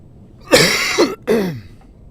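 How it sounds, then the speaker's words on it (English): A couple of harsh, throaty coughs close up from someone with a cold, the second following after a brief pause, with no talking around them. "Pardon my cough there."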